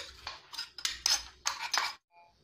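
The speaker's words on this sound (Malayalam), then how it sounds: "ഇനി ഞാൻ വേവിച്ചെടുത്ത സെയിം കുക്കറിലിട്ട് തന്നെ കപ്പ മാറ്റിയിട്ടുണ്ട്. ഇനി ഇതിനകത്തേക്ക് ഈ അരച്ചെടുത്ത അരപ്പിട്ട് കൊടുക്കാം." Ground coconut paste is scraped into cooked cassava inside a pressure cooker for Kerala kappa puzhukku, a run of short close metallic clinks and scrapes of a spoon against the pot, then quiet.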